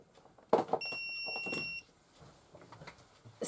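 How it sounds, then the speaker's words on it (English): A mini heat press gives a single high electronic beep that holds steadily for about a second, clear and close, amid faint rustling and handling noises. "so you hear it beep"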